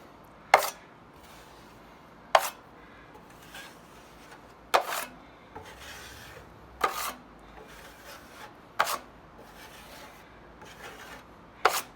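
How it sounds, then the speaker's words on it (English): Drywall knife pulling joint compound out from under paper tape on a board during a repair, a series of sharp scraping strokes every couple of seconds with quiet gaps between, close and alone. "I'm going to start from out in the center and pull the mud out from underneath the 1-inch edges"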